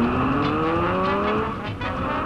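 Lamborghini V12 sports car engine, mounted crossways, droning loud and close with a steadily rising pitch as it accelerates, a faint tyre squeal mixed in.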